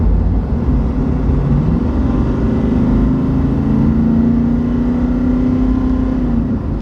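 A tuned Nissan Titan XD pickup truck accelerates with a steady, loud engine drone that rises in pitch and holds strong throughout, with no talking.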